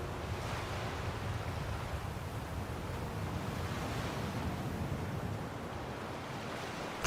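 Water waves lap and wash in Skyrim, a steady, soft broadband surf with a faint wind-like hiss that carries on evenly without a break.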